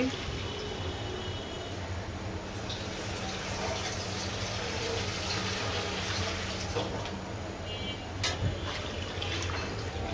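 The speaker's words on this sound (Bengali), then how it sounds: "এখন ঝোলের জন্য পানি দিয়ে দিচ্ছি।" Water pours steadily into a fish curry for gravy, a continuous liquid hiss and splash running throughout, fairly faint, with some clinks over it.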